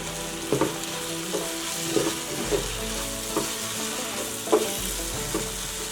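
Biryani masala fries and sizzles in a pan as salt is stirred through it, with steady frying hiss and a few soft scraping stirs at irregular intervals, close and without talk.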